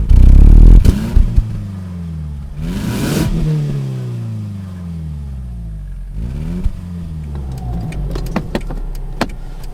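A car in sport mode accelerates hard with sequential gear changes: the engine note climbs and drops back at each shift, several pulls in a row, loud and close, with no talking.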